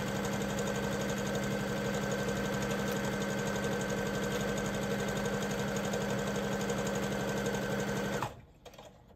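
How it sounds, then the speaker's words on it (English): A sewing machine runs steadily at constant speed, sewing a long straight basting stitch at stitch length 5 on a pencil skirt, a close continuous mechanical whir that stops abruptly near the end. "I'm going to do a basting stitch, which is just a long straight stitch"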